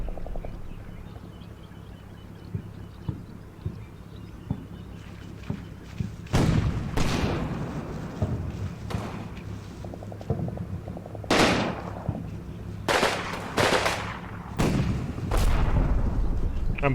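Artillery shells fall on German positions in an orchard in the World War II video game Combat Mission. Several heavy booms and crackling blasts come at irregular gaps over a steady low rumble.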